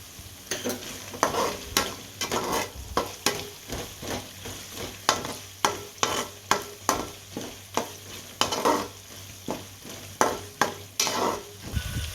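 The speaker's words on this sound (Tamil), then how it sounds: "இப்போ நம்ம ஒரு கொத்து கருவேப்பிலை சேர்த்துக்கலாம்" Curry leaves sautéing in a pan for Tamil fish kulambu, with a spoon stirring in repeated scraping strokes over a steady close sizzle, the rhythmic bursts recurring about every second.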